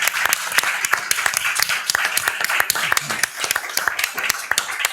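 An audience applauds with loud, close, distinct handclaps in an uneven rhythm, with some voices faintly underneath.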